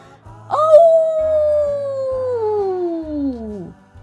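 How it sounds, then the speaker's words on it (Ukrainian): A single long dog howl rises sharply, then slowly slides downward in pitch over about three seconds, loud and close, with faint low thumps underneath. "раптом завив пес"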